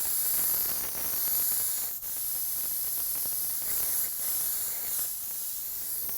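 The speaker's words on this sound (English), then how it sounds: "When you first start spraying these colored anodized colors" Steady close hiss of a spray gun laying down candy anodized red paint, continuous broadband spray running the whole time with a brief break near the middle.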